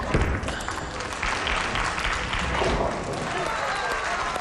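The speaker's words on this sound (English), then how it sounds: "Got everybody in the crowd getting a little thrilled there." Crowd at a bowling championship match breaks into sustained applause and cheering, a dense wash of clapping lasting several seconds with a commentator talking over it.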